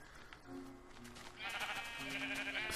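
Sheep bleating in Minecraft, several short wavering bleats overlapping against a faint game background, quiet and without talk.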